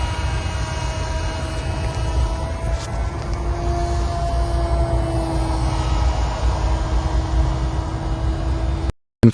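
Diomedes, a radio-controlled model aircraft, on its maiden flight, a steady electric motor drone with slowly shifting whine tones lasting several seconds, heard close and continuous over outdoor background, ending in a sudden cutoff.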